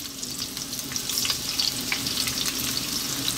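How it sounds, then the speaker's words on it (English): Onions and garlic fry in olive oil in a pan over medium heat, the garlic going golden, giving a continuous close sizzle with small crackling spits and no talking. "Our garlic is turning a nice golden brown. Onions are just getting going."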